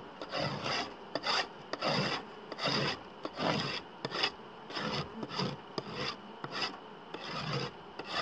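A hive tool scrapes the inside of a beehive in repeated rough rasping strokes, about a dozen rhythmic passes close to the microphone, with faint buzzing from the bees.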